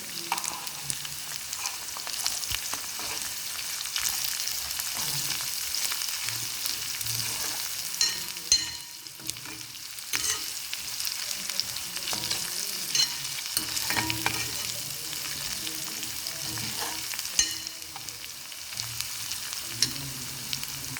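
Spiced potato curry with turmeric and salt sizzling in a pan while being stirred, a steady frying hiss runs throughout, broken by intermittent scraping strokes and occasional spatula knocks, close and continuous.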